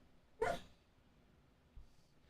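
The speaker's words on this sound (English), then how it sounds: "He's asleep, but making the little baby bark noises" A big dog asleep and dreaming gives one short, soft muffled bark, followed later by a faint low huff, in a quiet room.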